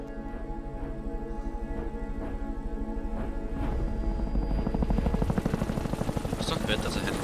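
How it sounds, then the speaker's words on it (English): Helicopter rotor in the Max Payne video game, a rhythmic thumping whir that grows louder and closer over several seconds, with engine whine rising toward the end. "that's a helicopter"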